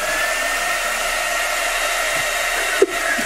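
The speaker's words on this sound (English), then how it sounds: "Turn on the candle blower." A candle blower device switched on by voice command gives a loud, steady hair-dryer-like whoosh of air, running alone throughout with a brief click near the end.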